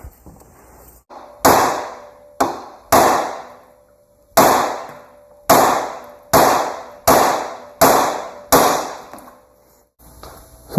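A hammer strikes the steering knuckle of a Yamaha Big Bear 350 ATV to pop its ball joints, giving about nine loud, close, ringing metallic blows in an uneven rhythm, each fading quickly.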